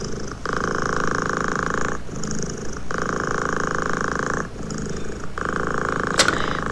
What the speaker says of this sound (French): On a un ronronnement de chat.